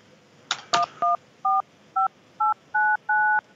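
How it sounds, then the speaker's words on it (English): Telephone keypad dialing while patching a call through: a couple of clicks, then seven distinct two-tone beeps in a steady sequence, clear and close, with no talking. "Let me patch Ron back in because I'm not sure"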